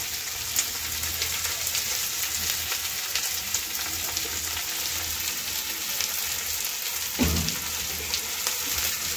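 Green chilies fry in oil with a steady, close sizzling hiss throughout, plus a brief clatter of a utensil near the end and no voices.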